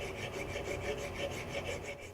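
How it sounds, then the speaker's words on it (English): A hand file rasps across a bearing mount surface in steady, rhythmic back-and-forth strokes, about six or seven in quick succession, close and fairly quiet with no talking. "Normally, a little filing is necessary to obtain the correct angle."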